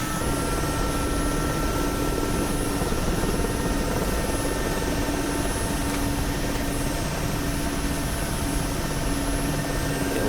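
A Mil Mi-8 helicopter in flight, a constant loud rotor and turbine drone with steady whining tones running unbroken throughout, no voices.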